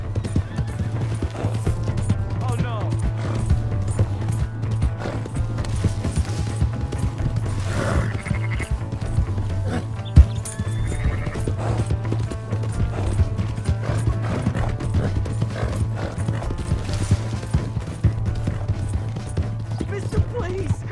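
Horse hooves clip-clopping at a steady gallop in Red Dead Redemption 2, a continuous rhythmic beat over a low droning hum, with game voices talking intermittently throughout.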